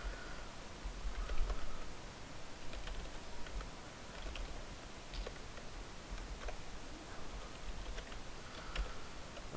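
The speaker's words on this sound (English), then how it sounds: "I'm just typing in junk so we can see this." Soft, steady clicking of keys on a computer keyboard, quick irregular taps continuing throughout, fairly quiet and close, with no voices.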